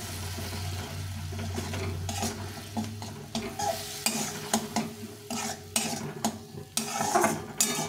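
Ginger-garlic paste and spices are stirred and sautéed in a pan, with a steady sizzle under scraping spoon strokes and clinks of metal cookware.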